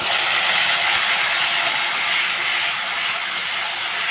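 Spice paste with turmeric and salt sizzles hard against potatoes browned in a pan for a koi fish curry, a steady loud broadband hiss running without pause.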